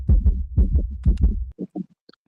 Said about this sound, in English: Tails, why are your heart beating so loud?